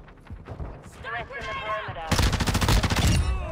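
A Hurricane rifle fires in Call of Duty: Modern Warfare II, a fast loud automatic burst of about a second, preceded by game sounds and a voice speaking.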